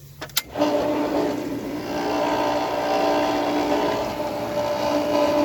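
A water pump, just reassembled after its clogged impeller was cleared and primed with water, starts with a short click and then settles into a steady, loud, continuous motor hum and whine that holds to the end.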